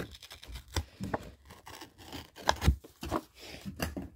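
Scissors snipping and scraping through the packaging of a Jurassic World Dominion six-inch Giganotosaurus toy figure, in a series of soft, irregular cuts and rustles, close and quiet, with no talking.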